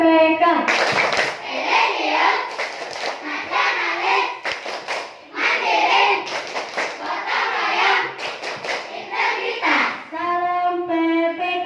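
A class of children clap a patterned PPK rhythm together in bursts, their chanting voices rising over sharp, close hand claps, with brief pauses between rounds and a lone voice speaking near the end.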